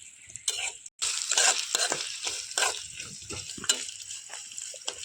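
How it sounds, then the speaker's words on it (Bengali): Spices for tomato pickle fry steadily in oil over low heat, giving a continuous crackling sizzle that surges in waves, with a few brief stirring scrapes and no voices. "এই রকম লো হিটেই কিন্তু এই মশলাগুলোকে ভাজতে হবে"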